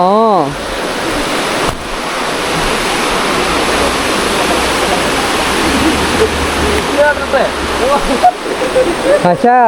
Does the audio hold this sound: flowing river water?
yes